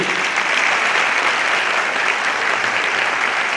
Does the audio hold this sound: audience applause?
yes